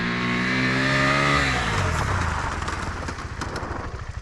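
A KTM 390 Adventure motorcycle brakes to a stop on a level gravel road, its engine note dropping steadily while gravel crunches and scrapes loudly under the tyres toward the end, close and with no voices.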